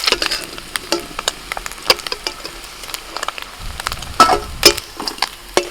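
Small puti fish fry in well-heated oil, crackling and spitting in uneven bursts alongside scraping stirs and clinks of a spatula, loud and close.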